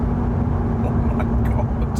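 A car drives at high speed, around 150, with a dense steady roar of engine, tyres and wind heard from inside the cabin.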